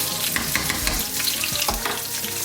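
Fish frying in oil in a pan, stirred and mixed, with a steady loud sizzle throughout and a few soft scrapes and knocks of the utensil.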